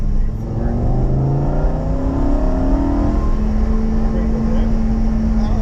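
A Lamborghini Huracan EVO Spyder engine pulls hard on a race track at Canadian Tire Motorsport Park, a loud steady drone with rising tone, close and continuous throughout.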